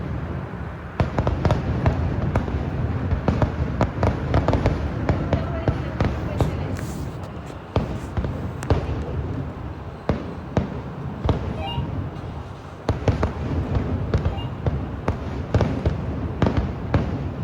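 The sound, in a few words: Thrissur Pooram sample fireworks display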